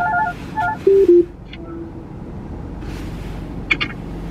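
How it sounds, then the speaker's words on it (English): A FaceTime video call on a phone rings out with short electronic tones and beeps, close and fairly clear over a steady background hiss, with no talking. "I gotta FaceTime my friend."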